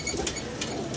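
Pigeons coo nearby in soft, low, rounded calls, with a few light rustling sounds over a steady background hum, all within a short moment.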